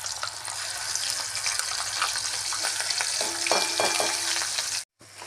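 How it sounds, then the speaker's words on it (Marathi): Masala dropped into hot oil in a kadhai for dhaba-style dum aloo, a loud continuous sizzle with a few clinks and scraping stirs, cutting off abruptly near the end. "तेल छानपैकी गरम झालेलं आहे आता यामध्ये मी हा मसाला घालत आहे"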